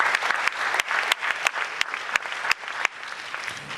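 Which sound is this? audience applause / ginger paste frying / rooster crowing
audience applause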